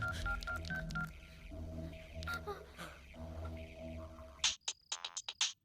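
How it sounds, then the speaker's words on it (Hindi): Tones of a phone keypad beep in a quick run of short presses, heard after a stretch of background music and voices. "नैमसन को फोन लगा दो जल्दी से।"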